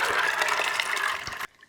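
Water is poured into a pot as braising liquid for black-eyed peas in a pork and beans dish, a brief steady gush lasting about a second and a half before it stops.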